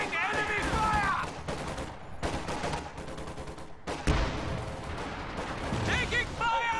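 Enemy gunfire in the Company of Heroes 2 real-time strategy game, a 1v1 match with US Devils Brigade forces: dense bursts of rifle and machine-gun fire crackle continuously, layered with battle noise and a sharp impact near the middle.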